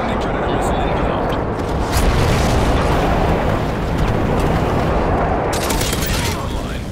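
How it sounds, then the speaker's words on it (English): Airstrike explosions in Modern Warfare 3 on the Interchange map roar as a dense, continuous barrage of booms and gunfire, loud and sustained throughout. "Delta airstrike on the way."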